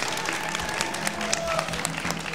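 Audience applause at a national Eurovision selection final in Romania, a dense steady wash of clapping from a large crowd, with a faint voice mixed in.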